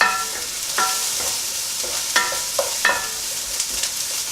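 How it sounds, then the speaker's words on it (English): Garlic sizzles steadily in a hot pan, a constant close hiss with occasional sharp clicks and scrapes of a spoon stirring it around. "I don't want to burn the garlic because it's in the pan."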